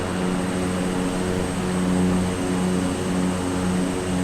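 Steady, loud drone of a propeller aircraft engine during a simulated bush flight in Bhutan from Yongphulla to Gelephu, a constant hum with even tonal harmonics and no other sounds.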